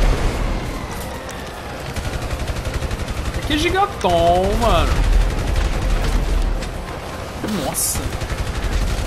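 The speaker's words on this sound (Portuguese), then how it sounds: "olha aquele ali querendo me dar uns tiros já" Rapid bursts of GTA V gunfire crackle throughout, mixed with loud game effects and excited talking over the action.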